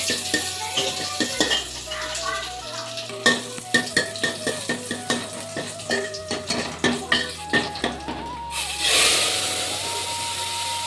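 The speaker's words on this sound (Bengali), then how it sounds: "রসুন আর শুকনো লঙ্কা দিয়ে ডালের ফোড়ন" Garlic and dried red chillies sizzle in hot oil as a tempering for dal, with steady frying hiss and repeated scraping and stirring clinks of a spoon against the pan, rising into a louder sizzle near the end.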